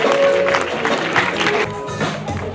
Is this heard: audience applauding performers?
yes